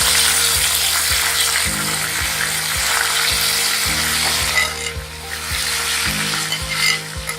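Green chilies and onion hitting hot oil with roasted cumin seeds and bay leaves for restaurant-style dal makhani, a loud, close, steady sizzle with regular low knocks from stirring, no one speaking.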